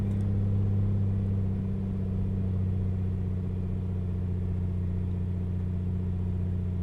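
A Comanche aircraft's piston engine in Microsoft Flight Simulator hums steadily after being throttled back to 1800 RPM, a constant low droning tone with no change in pitch, alone and even throughout.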